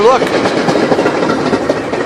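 An outbound Metra MD-N commuter train rumbles at Edgebrook station, a loud close steady roar of rail noise, with a person speaking briefly over it.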